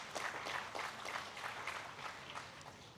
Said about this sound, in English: please give a big applause to them